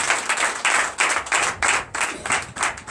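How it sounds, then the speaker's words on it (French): Rhythmic clapping from a church congregation at a Sunday worship service in Benin, steady bursts of hands in time, fairly close and moderately loud, with no voices over it. "Donne l'acclamation."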